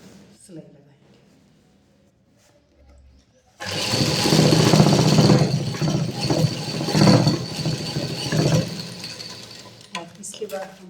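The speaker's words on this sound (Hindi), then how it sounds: "हम मशीन पे इसके नीचे वाले कपड़े को खींचते हुए इसके किनारे पे हम सिलाई लगाएंगे" A sewing machine runs steadily and fairly loud as it stitches along a fabric edge for a salwar hem, with a soft whir and fine rapid clatter after a quieter opening where a voice talks.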